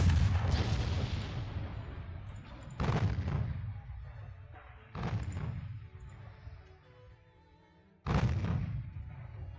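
Naval gunfire from the warship battle game Ultimate Admiral Dreadnoughts: four heavy booming salvos land at intervals, each a loud sharp blast followed by a long rumbling decay, with no talk over them.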